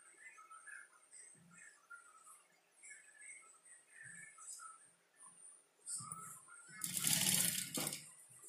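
A sewing machine stitches a blouse, a short loud burst of running stitches near the end that follows a quieter stretch of faint ticks and small handling noises.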